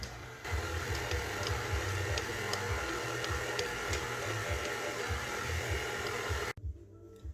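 Stand mixer with a dough hook running on its lowest stir setting, kneading rosemary cheddar sourdough dough; a steady whirring motor hum with a rhythmic low thumping pulse, cutting off abruptly near the end.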